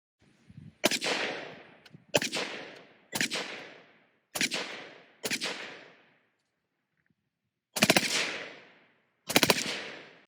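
A full-length suppressed select-fire 5.56 carbine fires single shots and quick doubles, seven muffled but punchy reports spaced across several seconds with a short pause before the final pair, each trailing a brief echo.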